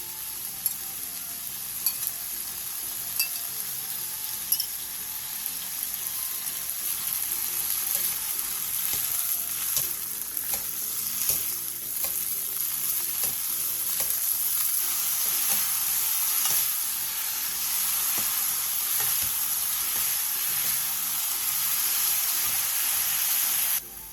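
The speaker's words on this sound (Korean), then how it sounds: "팬에 기름을 두르고 도라지, 다진 마늘 1스푼, 소금 3분의 1스푼, 물 7스푼을 넣고 중불에서 2분에서 3분 정도 볶아주세요" Bellflower root stir-frying in oil with minced garlic, salt and water over medium heat, a steady close sizzle and hiss with soft scraping stirs running throughout.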